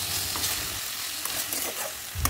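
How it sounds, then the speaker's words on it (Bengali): Spices and onion fry in oil in a pan, a steady close sizzle with scraping stirs across it and a louder stir near the end. "দিয়ে মশলাটা একটু নাড়াচাড়া করে ভেজে নিচ্ছি"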